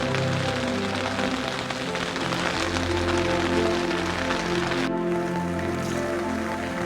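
Heavy rain pours onto a tent on a camping trip along a wet mountain trail, a dense, loud, continuous wash of drops that drops off suddenly near the end, with no voices.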